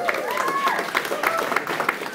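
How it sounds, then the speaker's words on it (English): A crowd at a launch event applauds actor Ryan Kwanten, a continuous wash of clapping with cheering and whoops mixed in and voices calling out over it. "Can we just have another round of applause?"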